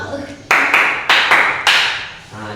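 Hands clapping out a counting pattern in a group clapping game: short bursts of two sharp claps, repeated three times with brief pauses between them, close and loud, with faint murmuring talk underneath.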